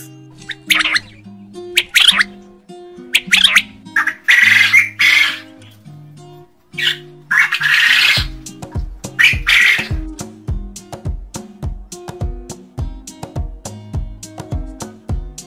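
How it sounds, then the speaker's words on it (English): Quail calls sound as short sharp bird notes in a series of bursts, close and clear, with rhythmic music joining and continuing in the background. "And the sound of the quail is"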